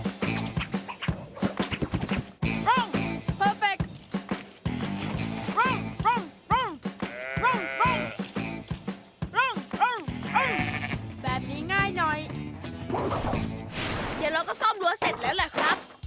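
Sheep bleat repeatedly in a Paw Patrol cartoon, wavering calls coming one after another among clattering effects and cartoon voices speaking Thai.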